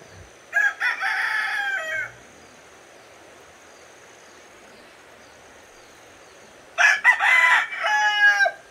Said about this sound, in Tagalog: Marami ditong mga manok.